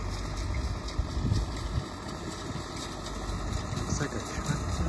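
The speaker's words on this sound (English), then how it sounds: "It's like a tractor." A tractor-like vehicle engine idling on a beach in the early morning, a steady, moderate mid-pitched rumble with faint vibration throughout.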